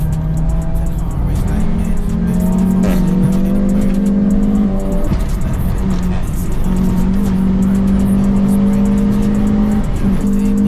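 An engine drones steadily and loudly from inside a car lapping a race circuit while following an Audi RS3. The pitch climbs through the gears, dips with each shift, then climbs again under constant road and wind noise.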